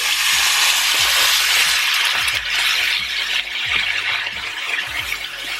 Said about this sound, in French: je vais directement rajouter le bouillon dedans et je rajoute de l'eau